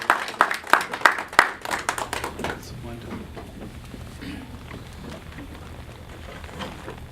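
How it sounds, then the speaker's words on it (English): At a conference, an audience gives the finance minister a round of applause: a few sharp claps open, then the clapping thins into a faint, scattered patter under a low room murmur. "let's once again give Finance Minister Schlettwein a round of applause"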